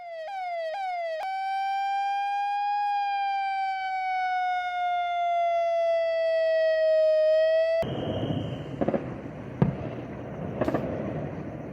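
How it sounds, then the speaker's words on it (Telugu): Sirens blare during a blackout amid a drone attack near a border area, a loud steady wailing tone that slowly dips in pitch for about seven seconds, then gives way to a noisy outdoor scene with scattered sharp bangs. "ఆ ప్రాంతంలో భారీగా సైరన్ శబ్దాలు వినిపించాయి"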